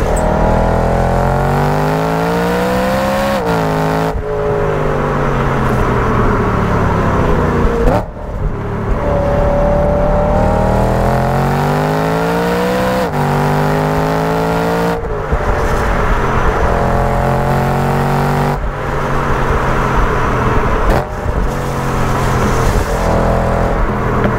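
A white BMW cruises fast on a motorway, its engine droning loudly and steadily, repeatedly climbing in pitch as it accelerates through the gears and dropping briefly at each shift.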